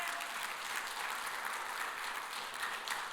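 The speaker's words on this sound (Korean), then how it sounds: "하나님께 영광의 박수 올려야죠." A large church congregation claps steadily and warmly during a sermon, a dense wash of applause filling a big room without pause.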